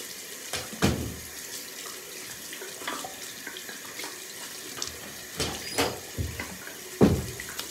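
A tap runs steadily into a sink while hands are scrubbed under it, with a few sharper splashes and knocks breaking through the soft, continuous stream.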